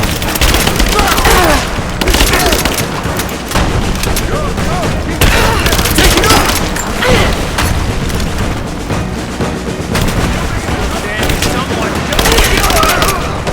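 Rapid gunfire from Rise of the Tomb Raider, a 2016 video game, with dense bursts of automatic fire and heavy booms throughout, loud and close, with shouted combat voices mixed in.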